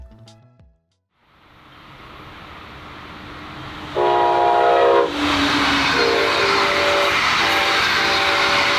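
A southbound Brightline train crosses the Eau Gallie River Bridge, its horn blaring in a loud sustained blast over a steady rising rumble and wheel noise as it passes close by.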